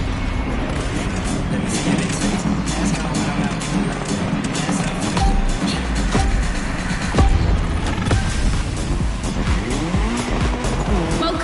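Race car in The Crew Motorfest at a Red Bull event, its engine revving and tires squealing and skidding in a loud, continuous run, with a voice talking over the action.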